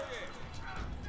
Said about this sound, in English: Definitely some horses as well.